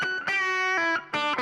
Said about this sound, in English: I'm going to go edit that reverb to be a little less mix, a little less time.